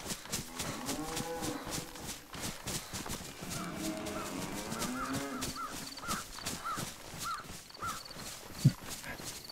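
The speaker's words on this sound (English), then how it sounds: "Random cow in the woods." A cow lows repeatedly in a forest in the survival video game DayZ, its drawn-out moos rising over ambient woodland sounds with crow caws, and a sharp thump near the end.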